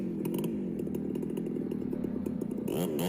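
A chainsaw fells a tree in a logging setting, its engine droning steadily at close range and revving in short repeated bursts before climbing to a higher pitch at the end.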